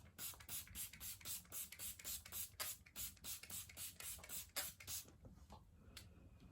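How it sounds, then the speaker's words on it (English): Rapid bursts of makeup setting spray misted onto a face, a quick rhythmic run of about twenty close, soft hissing pumps, then a few sparse ones trailing off. "I'm just going to do a light spritz of this."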